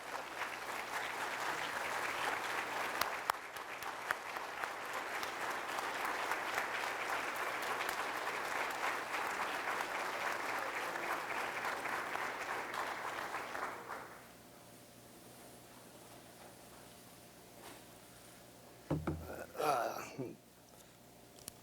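An audience at a high school Hall of Fame induction ceremony applauds in a steady sustained clapping for about fourteen seconds, then stops abruptly, leaving a quiet hall before brief handling sounds near the microphone.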